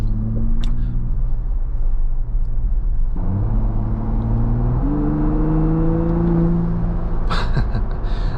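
A 2024 Ford Bronco Raptor with an EcoBoost engine drives along a gravel back road. Its close, steady engine drone climbs in pitch through gear steps, with no talking over it.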